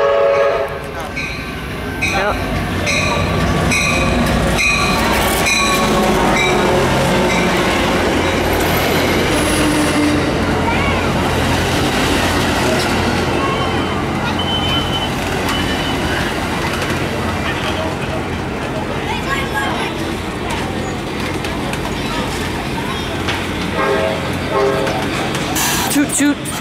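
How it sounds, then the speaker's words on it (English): Amtrak San Joaquins passenger train 717 pulls into Hanford station in California, with loud rumbling cars, squealing wheels and horn tones over about half a minute, while someone speaks briefly nearby. "we got Amtrak train number 717, I believe going north,"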